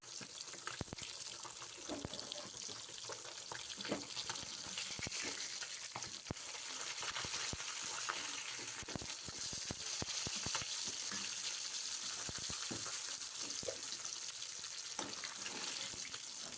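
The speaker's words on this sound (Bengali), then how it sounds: "কড়াই বসিয়ে দিয়ে সর্ষের তেল দিয়ে কিন্তু মাছটা আমি সম্পূর্ণ ফ্রাই করছি বন্ধুরা" Fish frying in mustard oil in a wok, giving a steady, close sizzle with crackling pops throughout and no talking.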